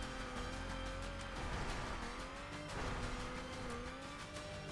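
A car engine revs steadily in the racing game The Crew, its pitch rising and falling in smooth sweeps over a dense, continuous roar, loud and close, with no talking.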